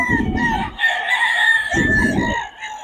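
A Boston Sunlight gamefowl rooster crows in two loud, drawn-out bursts close by, with a short gap between them.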